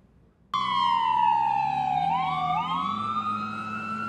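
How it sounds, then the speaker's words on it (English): An ambulance siren leaving a motorcycle crash scene in Clarksville, a loud close wail that starts abruptly and slides steadily downward in pitch as the vehicle passes and pulls away, with no talk. "You can see and hear that ambulance taking someone from the scene."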